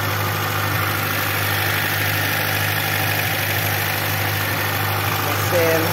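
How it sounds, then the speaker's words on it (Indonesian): A Hyundai car engine idles smoothly with a steady low hum and even vibration throughout, heard up close and without pause. "Mesin halus."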